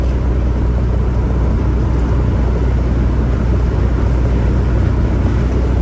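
From inside the cab of a moving Isuzu NPR truck with a 3-litre diesel engine comes a steady low rumble, with a constant drone and road noise and no talk.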